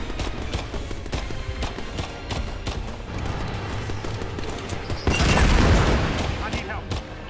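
Rapid, continuous gunfire from the co-op shooter Earthfall rattles in dense bursts, swelling into a louder, heavier volley partway through, with players' voices talking over the shooting.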